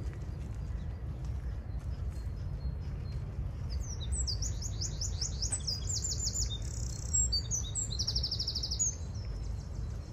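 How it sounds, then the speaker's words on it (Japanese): Small birds sing on a spring morning in Paris among cherry trees in full bloom, their bright chirps and trills rising over a steady low outdoor rumble, with a few faint clopping knocks underneath. "小鳥の声が凛として響いています。"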